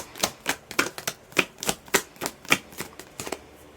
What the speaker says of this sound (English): That is a lot of cards, so we're gonna put them back in. Keep shuffling.